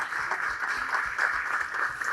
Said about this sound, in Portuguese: uma salva de palmas para esse ministro